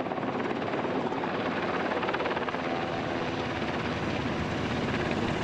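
A firefighting helicopter flies over the Thompson Fire, its dense, steady rotor roar loud and continuous throughout with no voices.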